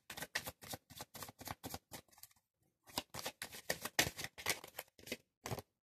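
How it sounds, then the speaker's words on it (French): Oracle cards being shuffled by hand in a series of quick riffling bursts, rhythmic and close, with a brief pause midway before the shuffling resumes. "je vais brasser les cartes de l'oracle G."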